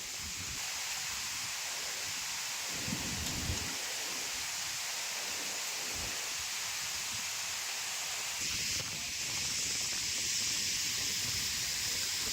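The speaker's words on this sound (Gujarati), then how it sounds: "વરસાદ ચાલુ છે" Steady rain falls at a dam, a continuous broadband hiss of rainfall on surfaces heard close and evenly throughout, with no voices.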